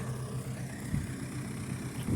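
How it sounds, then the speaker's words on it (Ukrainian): An MTZ 82.1 tractor engine idles in a field during ploughing, a steady low rumble throughout with a slight bump partway through, no voices. "Трактор стоїть."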